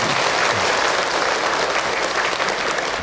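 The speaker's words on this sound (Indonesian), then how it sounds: "Tepuk tangan buat kita boleh. semua yang hadir." Audience at an Islamic religious talk applauding together, a loud, dense, steady wash of clapping that holds throughout.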